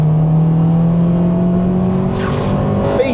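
Honda Civic Type R (JDM) engine revving hard into VTEC during a drive, a loud steady drone whose pitch climbs steadily and then surges at the end.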